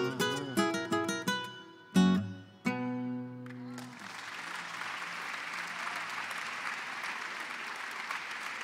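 A few plucked guitar notes ring out and fade, then an audience at a university honorary doctorate ceremony breaks into sustained, even applause that fills the hall.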